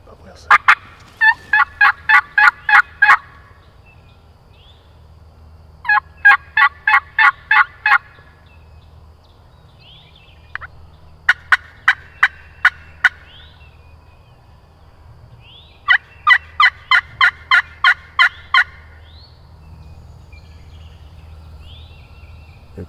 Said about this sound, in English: Hey, is that our first gobble together?